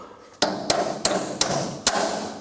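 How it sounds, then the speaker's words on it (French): Five light hammer taps seat a swing gate's axle onto its nylon ring, evenly spaced at close range, each a sharp knock over faint background noise. "Un petit coup de marteau."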